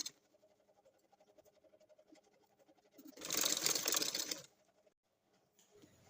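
A sewing machine stitches fabric onto two buckram pieces for a salwar, running in one loud, steady burst of a little over a second amid otherwise quiet surroundings.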